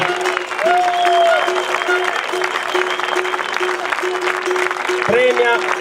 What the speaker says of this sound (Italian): Eccoci qua, un applauso.